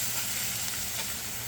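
A whole stick of butter sizzles and hisses in a hot pan with halibut, rosemary and thyme, a steady close frying hiss that holds evenly throughout with no talking.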